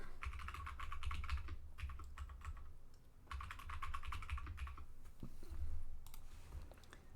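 A password is typed on a computer keyboard during a Debian upgrade, quick bursts of close plastic key clicks separated by short pauses, with no talking.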